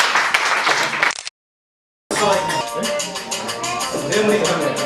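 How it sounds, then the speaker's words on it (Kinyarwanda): An audience claps and applauds at a farewell gathering, with dense close clapping that cuts to silence for under a second, then resumes strongly and steadily to the end. "twakomera amashyi menshi rimwe kabiri gatatu"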